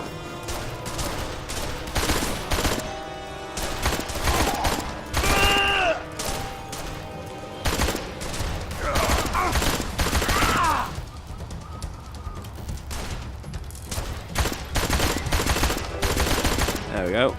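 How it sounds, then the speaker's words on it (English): Assault rifle gunfire in the crime video game Blues and Bullets, with sustained bursts of automatic shooting and crashing impacts over game music. A voice speaks intermittently. "now I've got an assault rifle"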